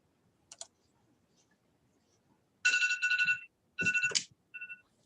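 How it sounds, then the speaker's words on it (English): Phone alarm going off during an online call, a short electronic ringtone heard in repeated bursts of bright chiming tones, preceded by a faint click in an otherwise quiet room. "That was my alarm for this call"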